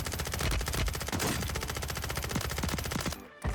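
Rapid automatic gunfire from Call of Duty on Rebirth Island, a dense, loud burst of machine-gun shots rattling almost continuously, then a brief pause and a final shot.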